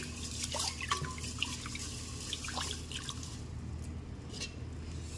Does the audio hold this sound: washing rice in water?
yes